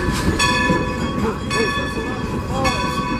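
Train running at the Strasburg Rail Road during a Day Out With Thomas event, a steady rumble of rolling cars with rhythmic clatter and tonal rail squeal, passing close under people talking.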